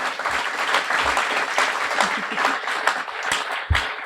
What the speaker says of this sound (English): Let's have a big round of applause for Kim Hansen and Michelle Munier